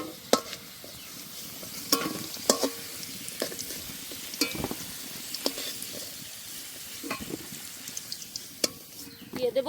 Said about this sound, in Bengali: আলুগুলো লাল লাল করে ভেজে নিয়েছি,